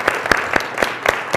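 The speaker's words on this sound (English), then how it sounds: "let's give them a round of applause" A student-life show audience claps in a few loud, distinct bursts roughly every quarter second, sounding like a small, close group rather than a full crowd.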